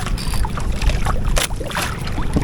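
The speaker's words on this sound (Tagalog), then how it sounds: "Malakas pa yung alon." Strong waves slap and churn against a small fishing boat out at sea, a rough, rumbling wash of water with wind buffeting close to the microphone.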